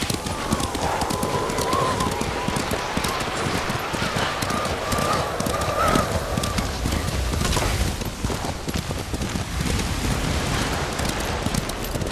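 Steady horse hoofbeats clip-clop over a continuous rain-like wash in the video game Ghost of Tsushima, with voices speaking intermittently over the top.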